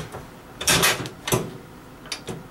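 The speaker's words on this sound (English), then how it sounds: "I'm going to go ahead and shut the door." Door of a veterinary sterilizer (autoclave) being shut, a few quick metallic clunks and latch clicks at close range, moderately loud, with no talking.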